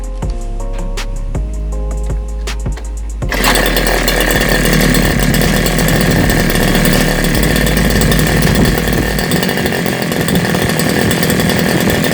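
A Maruyama AE420 brush cutter engine idles with a fast, buzzy putter for a few seconds, then is throttled hard to a loud, sustained high-rpm scream that holds steadily to the end, close and alone.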